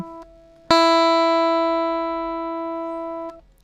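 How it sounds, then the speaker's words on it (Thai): A single plucked phin lute string tuned to E rings out clearly after a brief faint tap, sustaining a steady bright tone that slowly decays before being damped. "สายหนึ่งเสียง E นะครับผม"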